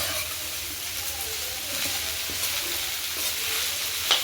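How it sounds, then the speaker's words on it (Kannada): Ivy gourd (tondekai) palya fries in a pan with a steady, close sizzle and occasional stirring scrapes, with no talking. "ನೋಡಿ ಚೆನ್ನಾಗಿ ಈ ರೀತಿ ಫ್ರೈ ಮಾಡಿಕೊಂಡ್ರೆ ತೊಂಡೆಕಾಯಿ ಪಲ್ಯ ರೆಡಿ"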